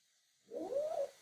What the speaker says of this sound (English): Now it's growling.